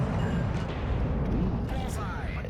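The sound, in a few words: battleship Marlborough aft guns firing in World of Warships Legends video game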